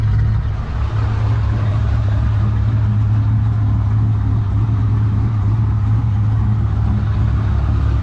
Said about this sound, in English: Motor sounds actually really healthy